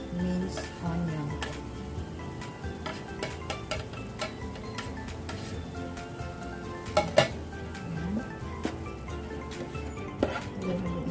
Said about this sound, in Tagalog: Ngayon po, maglalagay po tayo ng minced garlic at minced onion.